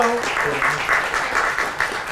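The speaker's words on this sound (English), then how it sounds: "We'll take that applause." Audience applause at a gaming conference talk, a steady dense clapping from a room of people that holds for a couple of seconds with no talk over it.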